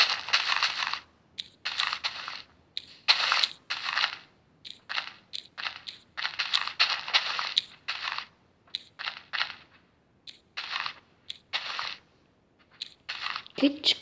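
Blocks being broken in Minecraft while building a park make quick bursts of crunchy, crumbling clicks that repeat in uneven clusters separated by short silences.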